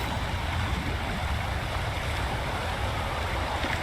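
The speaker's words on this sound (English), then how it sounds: "That's a really big waterfall." A big waterfall in the video game Wuthering Waves roars steadily, a dense, unbroken rush of falling water filling the scene with no voices.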